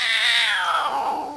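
A cat meows once in a single drawn-out, loud, close call that falls steadily in pitch and lasts just over a second, with no voices.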